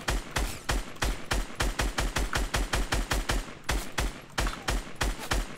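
Rapid gunfire from the Fortnite Season 5 video game pounds out in a steady, evenly spaced burst of many sharp shots, loud and continuous, with no speech.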